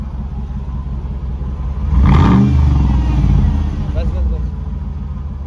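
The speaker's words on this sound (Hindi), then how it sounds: "तो ये कुछ एग्जॉस्ट साउंड है GLS नहीं, बेसिकली G-Wagon का।" A Mercedes G-Wagon engine rumbles at idle through its exhaust, rising briefly in a throaty rev before settling back, with a short spoken word over it.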